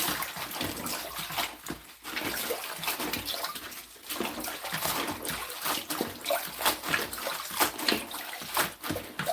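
Juicing greens are swished and scrubbed in a basin of water, giving repeated irregular splashes and sloshes close up, with brief pauses between bursts and no voices.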